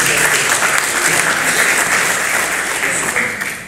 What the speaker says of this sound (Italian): ti faccio io un applauso